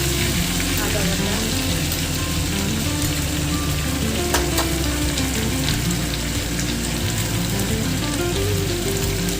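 Ginger paste fries in hot oil for an egg curry with a loud, continuous sizzle that stays steady throughout, close up and without pause.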